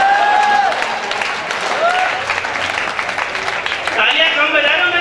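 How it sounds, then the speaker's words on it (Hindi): An audience at a Hindi comedy poetry gathering (kavi sammelan) breaks into loud, continuous applause and cheering, a dense wash of clapping that holds throughout with voices and whistles rising over it. "तालियां कम बजा रहे हो"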